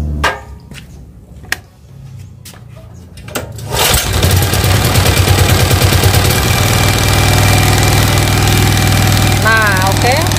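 A generator set's engine cranks and catches after some scattered knocks, then runs steadily and loudly with a continuous throbbing drone.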